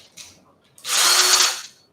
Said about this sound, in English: this cordless drill,